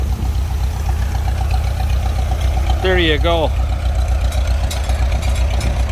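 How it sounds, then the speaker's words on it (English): An old tractor used for crop spraying idles steadily at close range, a constant low engine drone running through the whole stretch while a person speaks briefly partway through. "That's the original spraying tractor."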